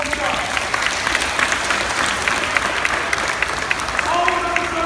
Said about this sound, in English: give yourselves a round of applause first before we start.